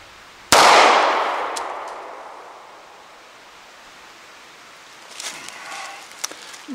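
One sharp, loud pistol shot from a live-fire P38 fired at targets, with a long reverberant decay, followed by faint clinks and rustling.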